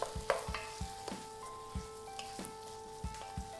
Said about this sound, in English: We just add this straight into the pan and stir around.